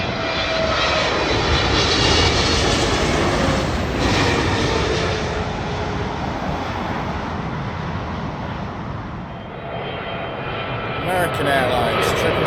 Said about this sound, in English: Now we've got Turkish Airlines, their big 777, the 300.